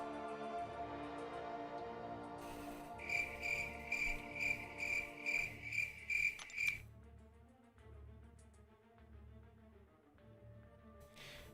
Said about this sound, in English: Those were crickets.